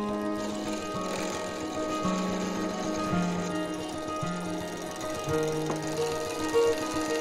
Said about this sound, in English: now for some highly improvised milling machine, otherwise known as my drill press